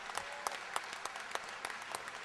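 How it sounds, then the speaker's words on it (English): Sparse clapping at an outdoor political barbecue, a handful of separate hand claps spaced at a loose, uneven rhythm and fairly faint. "A big round of applause for those guys for being here today."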